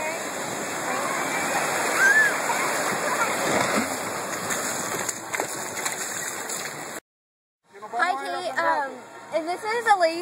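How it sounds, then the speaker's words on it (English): Flowing water of a lazy river at a Florida water park rushes steadily with splashes and gurgles, fairly loud, then cuts off briefly before resuming with a person talking over it. "And this is a lazy river I wanted to show you."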